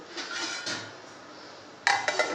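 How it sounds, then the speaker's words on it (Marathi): A lid set down over a pan of marinated paneer gives a couple of soft clinks and a brief metallic clatter near the end, close by and fairly quiet. "आता हे झाकून ठेवतो थोड्या वेळ दोन मिनटासाठी"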